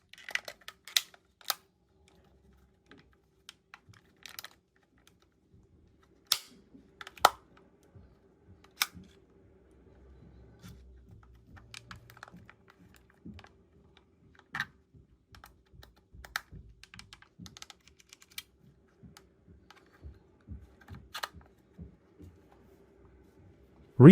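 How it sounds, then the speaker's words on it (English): Plastic housing clips of a DJI RC-N3 remote controller pressed back into place around its perimeter, heard as scattered sharp clicks and snaps spread irregularly over a quiet background, with no talking. "Press the housing clips back into place around the perimeter."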